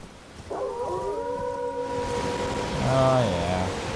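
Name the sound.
dogs barking in the video game Elden Ring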